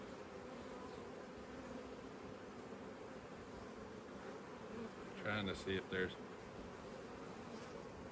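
Honeybees hum in a steady, dense drone from an open hive during a queen acceptance check, the buzzing constant and close throughout while a person speaks briefly partway through.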